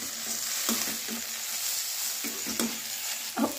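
Okra sizzles in a pan with coriander powder and chili flakes, a steady frying hiss broken by a few scraping stirs of a spoon against the pan.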